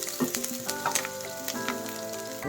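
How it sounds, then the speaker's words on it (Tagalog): Onion sautéing in hot coconut oil for sinigang na isda sa santol, a steady close sizzle and crackle with a few stirring clinks, no talking. "Ngayon, ang isusunod naman natin sa ating mantika ay ang ating sibuyas. Ayan, magigisa po tayo ngayon."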